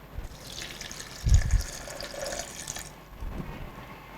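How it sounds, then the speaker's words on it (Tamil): Water poured from a container into a blender jar while making cucumber mint juice, a short splashy gush with liquid sloshing on either side of it, close and fairly quiet with no talk. "நம்ம தண்ணி ஊற்றி தான் அரைக்கணும்"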